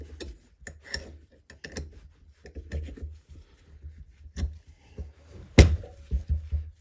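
Scattered small metallic clicks and taps as a rocker bolt is worked out by hand from an old Moto Guzzi engine, close and irregular, with one sharper clack near the end.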